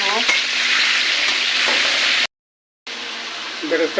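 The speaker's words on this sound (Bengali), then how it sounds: "তেলে পেঁয়াজ দিয়ে দিলাম" Onions sizzle in hot oil for an egg korma pulao, a loud steady frying hiss with stirring scrapes. It cuts out completely for about half a second, then resumes.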